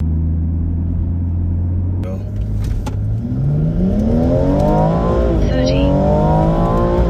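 A BMW car engine idles with a low rumble, then revs up and accelerates hard on a quarter-mile drag run, its pitch climbing steadily through the gears, loud and close.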